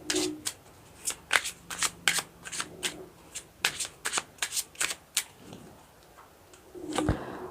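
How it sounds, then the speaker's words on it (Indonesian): A deck of tarot cards is shuffled repeatedly, with crisp rapid riffling bursts in an irregular rhythm, close up and distinct, with faint background noise between them. "Fokuskan ya ketika saya menshuffle kartu."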